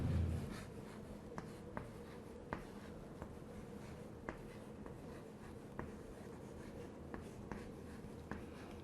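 Chalk or marker writing on a board during a physics lecture on rotation, with soft scratching strokes and light regular taps, close and quiet, with no talk.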